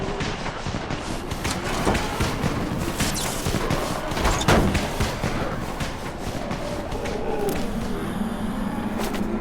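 Rapid crackling bursts of firecrackers going off in a zombie-filled street in the Dying Light game, dense irregular pops and thuds running continuously at fairly strong level.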